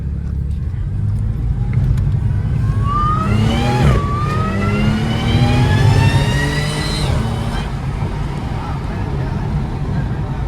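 Supercharged car engine revving with the hood removed, its rising supercharger whine sweeping upward twice over a loud rumbling idle, with people talking nearby.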